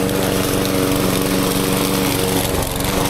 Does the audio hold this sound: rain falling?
no